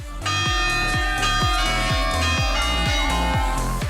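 Several carillon bells ring out together in a rapid cascading sequence at a French site, bright overlapping tones chiming steadily with a long shimmering ring between strikes.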